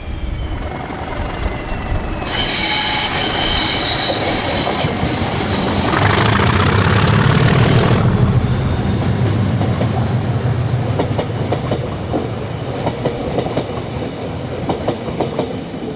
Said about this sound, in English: 37403 and 73968 are seen powering out of Dundee, working 1B16 from Aberdeen to London Euston as far as Edinburgh.